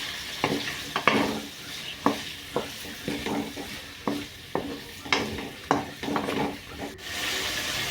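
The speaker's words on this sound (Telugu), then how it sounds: "జీలకర్ర మెంతులు వేసి బాగా వేయించుకోవాలండి" Cumin and fenugreek seeds fry in oil for a tomato chutney, a soft sizzle under repeated close scraping and clacking of a spoon stirring in the pan, irregular strokes about every half second, no talking.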